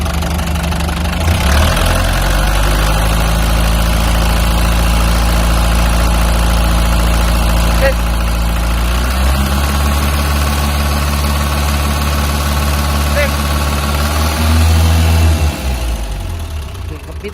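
An Isuzu TL-100 truck's engine idles loudly and steadily close by, with a deep rhythmic diesel throb and a slight shift in pitch partway through, then settles near the end.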